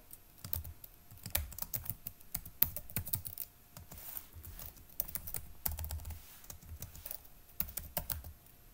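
Java code being typed on a computer keyboard during a lecture, a rapid, continuous stream of close clicking keystrokes with brief pauses between bursts.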